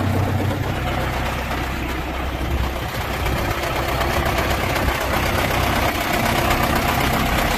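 A 1973 Case 870 tractor engine runs steadily with its PTO engaged, a continuous close, loud low-pitched idle-like rumble with faint knocking texture and no talking.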